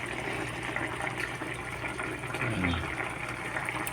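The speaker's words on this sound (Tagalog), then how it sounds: "Nalagay ko na pala yung pangalawang gata." Coconut milk, a second batch of gata, pours into a cooking pan with a steady liquid splash and bubbling, moderately loud, briefly swelling partway through with no talk.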